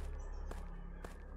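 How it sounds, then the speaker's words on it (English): A footstep in the horror game Skinwalker Hunt, with two brief crunching steps about half a second apart over a steady low ambient bed of night noise. "Footstep."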